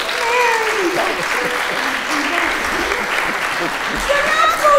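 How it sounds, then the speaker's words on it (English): Audience clapping along to a sung music-hall song at a silent-film screening, with rhythmic claps under tuneful group singing and voices throughout. "You're not supposed to clap, you're supposed to sing!"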